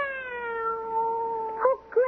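A cat in a radio drama lets out one long, drawn-out meow that wavers and fades, followed by two short mews, close and clear with little background.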